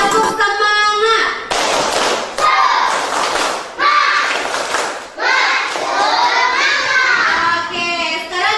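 A primary school class of children clapping in bursts, sharp loud rounds of claps alternating with children's voices chanting and talking in between.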